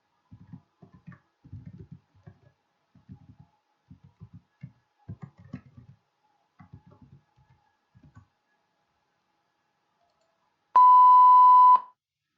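A pure electronic test tone sounds alone for about a second, loud and steady with a sharp start and stop. Faint, scattered soft clicks are heard before it, separated from the tone by silence.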